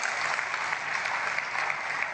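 A church congregation applauds during a sermon, a dense, continuous wash of many hands clapping at once, fairly loud and steady from start to end.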